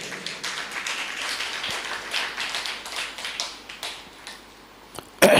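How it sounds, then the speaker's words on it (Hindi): An audience at a religious discourse claps steadily, a moderate, somewhat thin patter of hands continuing throughout before a sharper burst at the end. "ताली कमजोर बजाते हैं आप"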